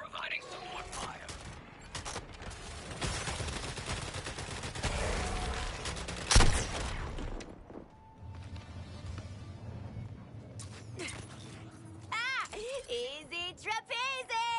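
Gunfire rattles through Suicide Squad: Kill the Justice League combat, with dense volleys and scattered shots mixed with game effects at a fairly low level, while someone talks at times.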